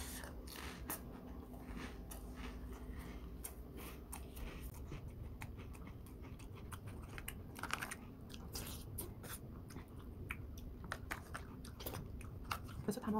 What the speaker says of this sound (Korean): 리츠 사과 젤리 맛있게 먹어볼게요.